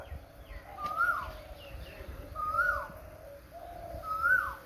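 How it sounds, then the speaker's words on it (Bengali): A bird calls repeatedly in a rural home setting, three clear rising-falling calls spaced about every one and a half seconds, fairly close over low background noise. "ও পাখির ডাকটা তো সুন্দর"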